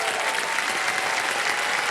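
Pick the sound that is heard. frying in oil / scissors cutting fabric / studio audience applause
studio audience applause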